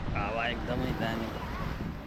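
Wind blows steadily across a beach in Kochi, Kerala, a continuous rushing roar buffeting the microphone, with faint voices and crowd noise in the background.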